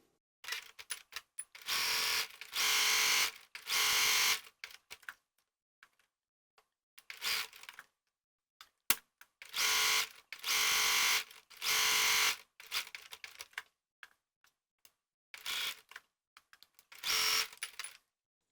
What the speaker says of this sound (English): I'm just going to sew this rectangle, which is marked between the small dots on the pattern